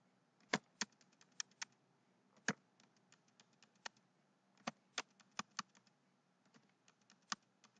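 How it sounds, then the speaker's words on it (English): Quiet, irregular clicks of keys being pressed on a computer keyboard, in short bursts with pauses, close by and alone. "I'm typing in the first couple of letters of the supplier name"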